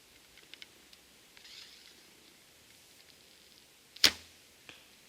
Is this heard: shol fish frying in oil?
no